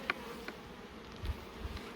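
Honey bees at an open beehive make a low, continuous buzz, with individual insects passing close by now and then and a few faint handling knocks.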